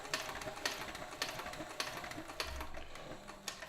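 A sewing machine stitches a leather back cinch keeper with a quick, faint, regular clatter of needle strokes, close and steady without talk.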